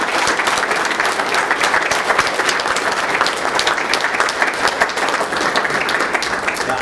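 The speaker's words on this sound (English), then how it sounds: "So let's give him a round of applause." Audience applause after a lecture, a dense, even burst of many hands clapping that holds steady and loud throughout without any talk over it.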